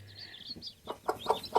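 Two brooding hens give a quick series of low, soft clucks, close and fairly quiet, with faint chirping from chicks in the background.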